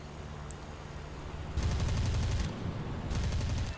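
Tank cannon fire and rapid gunfire in the War Thunder video game, heard as two sustained bursts of heavy rattling shots with a deep rumble, separated by a quieter gap over a constant background drone.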